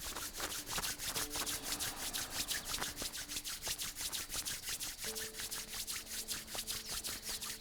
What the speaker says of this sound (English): Take your palms in front of you and just rub them, creating a warm friction.